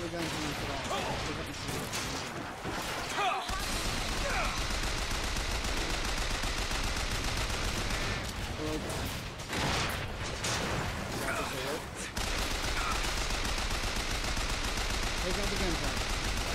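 Sustained gunfire during a gunfight in the video game Bioshock Infinite, Shanty Town level, a dense continuous barrage of shots with brief pauses, loud and close.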